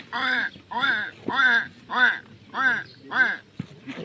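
A person imitates crow and duck calls, giving six or seven nasal, cawing quacks in a steady rhythm, close to the listener.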